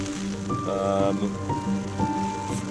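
Steady medium rain patters on a taut tent surface while wild camping in Wales, a continuous close drumming with a few brighter drips standing out.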